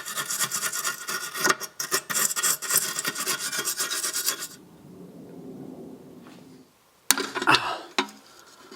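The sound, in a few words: cleaning the brake line nut on a BMW Z3 caliper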